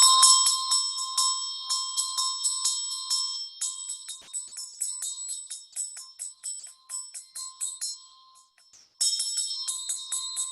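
A ritual hand bell rings in a steady, rapid rhythm of bright metallic strikes, played close and loud, with a brief pause before the ringing resumes near the end; no one speaks.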